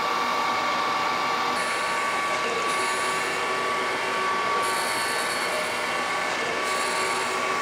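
A Brown & Sharpe automatic grinder runs with a continuous whining hum and a steady high tone, and a brighter hiss comes and goes in stretches; no voices.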